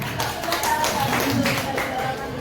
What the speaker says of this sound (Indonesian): Tepuk tangan dulu Pak Dwi